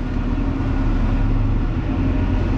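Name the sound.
car being moved back and parked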